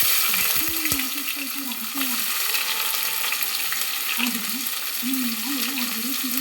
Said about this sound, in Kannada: ಹಾಕುವಾಗ ನಿಧಾನ, ಎಣ್ಣೆ ಹಾರ್ತದೆ.